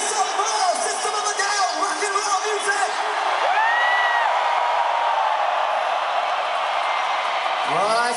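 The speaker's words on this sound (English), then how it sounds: "They're cheering for your baby" A large concert crowd at a show in Mexico City cheers continuously, with whoops and whistles rising over a dense, steady roar of voices.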